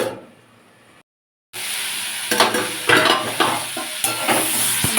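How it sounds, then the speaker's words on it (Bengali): Cauliflower stems and mixed vegetables fry in a pan, with a steady sizzle and repeated scraping stirs of a utensil against the metal. The frying starts after a short silence, sounds close and continues without talk. "সবজিটা অনেকটাই ভাজা ভাজা হয়ে গেছে এইবার আমি ডাটাগুলো দিয়ে দেব"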